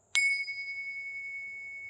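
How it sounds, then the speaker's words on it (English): A single clear strike of a small hand bell rings out close by, its bright tone sustaining and slowly decaying over nearly two seconds in a quiet room. "I'm going to ring these bells"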